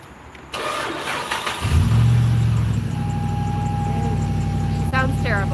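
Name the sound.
truck engine running after remote start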